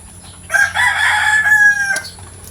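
A new breeder rooster crows once, loud and close. The crow is a single drawn-out call lasting about a second and a half, heard over quiet background with no talk.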